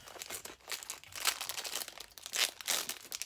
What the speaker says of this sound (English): It comes in this little plastic bag.